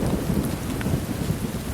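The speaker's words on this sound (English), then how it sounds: "Got a thunderstorm going over the top of me right now" Thunderstorm on a high mountain trail along the Continental Divide, with heavy rain pattering steadily close by and a low rumble of thunder beneath, no voices.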